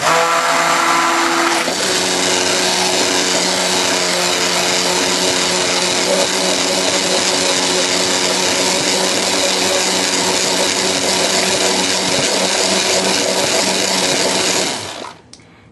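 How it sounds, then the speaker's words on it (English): A blender whirs loudly and steadily for about fifteen seconds, mixing aloe vera gel into a shea butter mix, its motor pitch rising once the blades catch, then winding down abruptly at the end, with no talking. "I would not usually blend my aloe vera gel in my shea butter mix"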